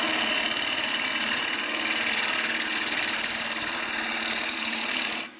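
A gouge cuts into a spinning wooden bowl on a lathe, making a steady, loud broadband hiss and whir of shavings that holds constant throughout, with no talking, before cutting off abruptly at the end.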